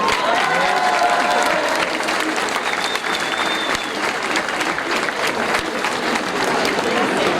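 Sustained, loud crowd applause thanks the police and security forces at the opening of the Fêtes de la Madeleine 2023, a steady dense clapping with a faint voice underneath.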